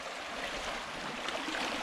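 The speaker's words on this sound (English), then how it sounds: "the water is sort of going around it and crashing" Creek water flows and splashes around fallen tree limbs lying across the stream, a steady close broadband rush with no break and no voices.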